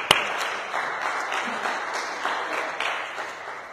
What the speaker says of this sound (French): acclamez le Seigneur